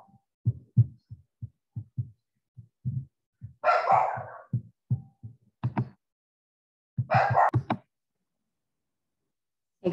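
A dog barking indoors, two short, fairly distant bursts of barks rising over a run of soft, regular low thumps, with no talking.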